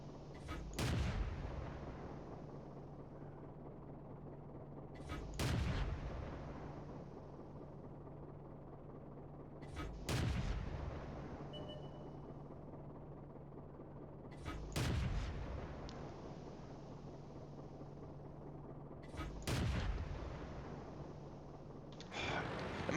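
A Vickers Medium Mk. II tank gun fires in World of Tanks, five heavy booming shots spaced evenly about every five seconds, each with a sharp report and a fading rumble over a low engine drone.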